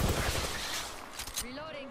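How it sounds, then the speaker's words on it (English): Gunfire in Apex Legends crackles in fast repeated shots through most of the moment, fairly loud and close, then cuts off into quieter game tones, with a voice talking over it. "They spotted me. I'm taking shots."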